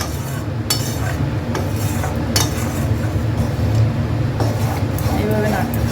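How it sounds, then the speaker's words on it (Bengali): A utensil stirs and scrapes food around a pan, with intermittent metallic clinks and scrapes over a steady background hum, close by and mixed with nearby talking. "এরকম নাড়তে থাকতে হবে, এইভাবে ঘাটতে থাকতে হবে"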